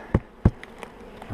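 Honey bees hum at a spring hive inspection, a soft continuous buzz with a couple of sharp knocks from handling the hive frames near the start.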